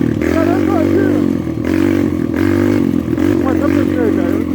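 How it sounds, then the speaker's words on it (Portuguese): Motorcycle engine revving up and down by itself on a dirt surface, loud and close with fluctuating harmonics, while people talk over it. "Olha, vai acelerando sozinho."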